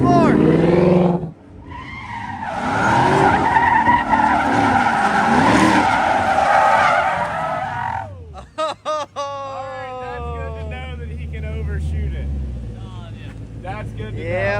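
A race car's tires skid and squeal under hard throttle, loud and sustained with a roaring engine, then rising revs and gear changes as the car pulls away. No one speaks.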